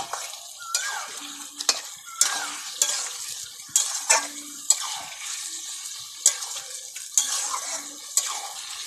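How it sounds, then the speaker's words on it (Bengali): Chicken for a curry sautéed in spiced oil and stirred in a pan, with repeated close scraping strokes of the spoon over a soft sizzle, some metallic clinks, and no talking. "এবারে আমি চিকেন দিয়ে দেব। এবারে আমি খুব সুন্দর করে কষিয়ে নেব।"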